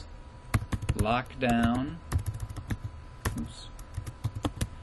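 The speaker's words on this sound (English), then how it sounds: "you'll start typing into the search box" Quick keystrokes tapped on a computer keyboard while entering a search query, sharp irregular clicks up close, with a person talking briefly partway through.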